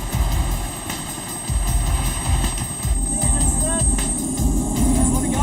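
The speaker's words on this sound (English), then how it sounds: "By the time the chopper lands" A rescue helicopter landing on a mountain gives a loud, steady rotor and engine roar with pulsing low thumps, close by and filling the whole clip, and a faint whine rises near the end.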